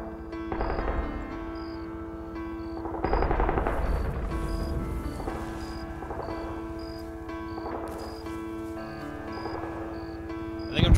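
In an Arma 3 DayZ mod firefight, rapid automatic gunfire crackles in bursts over a droning aircraft engine with steady tonal whine, the shots coming in repeated clusters and growing sharper near the end.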